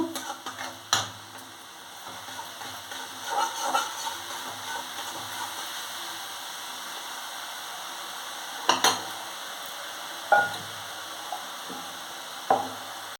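Spices sautéing in oil in a pan for a Bengali tangra fish curry with eggplant and lentil dumplings: a steady soft sizzle under several sharp clinks and scrapes of stirring against the pan, no talk.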